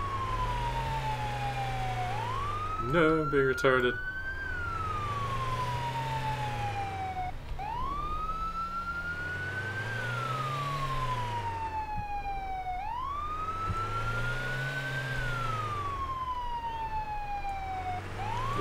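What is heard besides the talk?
ambulance siren passing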